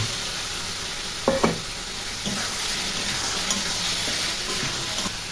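Fried potatoes going into sizzling masala in a pan for a soybean and potato curry, a steady frying hiss with a couple of spoon knocks and scraping stirs up close.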